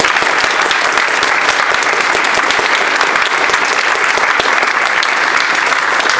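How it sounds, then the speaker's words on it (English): An audience at Emporia State University gives loud, dense applause, a sustained crackling roar of many clapping hands that stays steady from start to end. "let's give them a round of applause for their tremendous support"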